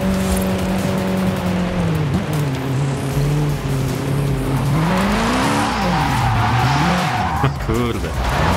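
A race car in Forza Horizon 5 roars with a wavering engine note as its tires squeal and skid through slides, loud and continuous, with a voice faintly talking over it.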